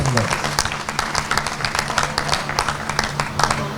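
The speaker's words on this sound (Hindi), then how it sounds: "तालियां कमजोर है, बड़े कवि को बजाई देना, बड़ी तालियों से दीजिए।" An audience at an outdoor Hindi poetry gathering claps steadily, a moderate, slightly uneven burst of applause with a voice speaking over it.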